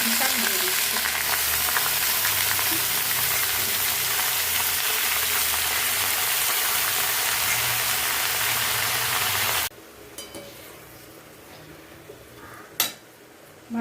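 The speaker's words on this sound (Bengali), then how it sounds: "ভালো করে মেথি শাকটা নেড়ে দিচ্ছি।" Fenugreek leaves fry and are stirred with fried onions in a pan, a loud steady sizzle for most of the time, then it drops to quiet with a few soft utensil clinks.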